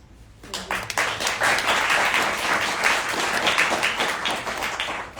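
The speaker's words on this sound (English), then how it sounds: "Give a warm applause." Warm applause from a symposium audience on Japanese knotweed rises quickly and holds as a steady, dense wash of many hands clapping throughout, fairly close and even in level.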